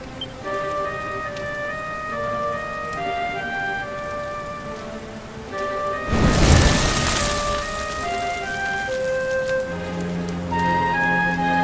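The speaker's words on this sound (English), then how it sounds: "Looks like the rain's dying down." Steady rain in the video game Dragon Quest XI falls under soft musical tones, with a brief louder rumbling swell partway through before the rainfall settles back to a constant patter.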